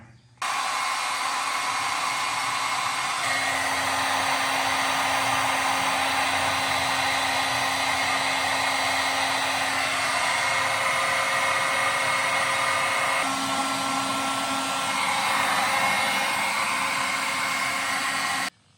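A heat gun blows steadily on heat shrink tubing over camper wiring for a truck camper tank monitor install, a continuous loud whirring hiss that shifts slightly in pitch as it is moved, with no talking.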